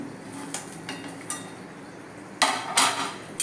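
Small bele fish are dropped into a cooking pan with softened onion and coriander powder. A few light metal clinks come first, then two close, hissing bursts as the fish hit the hot pan.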